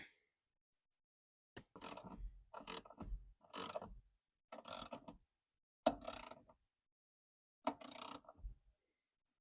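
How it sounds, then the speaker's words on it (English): A small ratchet tightens the 12v battery hold-down in a Toyota Prius C, with six or seven quick clicking bursts at a steady rhythm separated by silent pauses, close and clear with no speech. "That's why I'm using this small ratchet."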